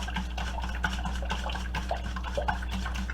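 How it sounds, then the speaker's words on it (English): A whisk beats eggs and milk in an aluminum bowl, giving a steady rhythmic scraping and swishing of metal against metal with faint liquid sloshing, close and continuous, with no voices. "So I'm just whisking in a circular motion, and my eggs all beaten."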